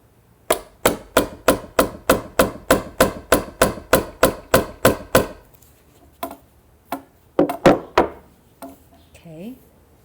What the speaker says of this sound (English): the awl goes through the cardboard